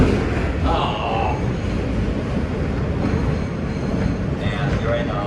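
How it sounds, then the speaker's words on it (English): A New York City subway R train running on the Q line between 14th Street–Union Square and 96th Street rumbles steadily close by, with brief metallic squeals, while people talk over the noise. "This is a train."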